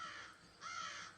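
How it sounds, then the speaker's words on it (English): A bird on a ledge gives two harsh, crow-like caws in quick succession, faint and somewhat distant, with a low hiss of background noise throughout. "A bird on the ledge flies off."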